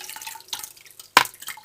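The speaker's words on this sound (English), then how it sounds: "So you want to fill your filter up first" Water is poured into a Fluval EDGE aquarium filter: short splashing and dripping bursts, with one louder splash near the end, close and alone.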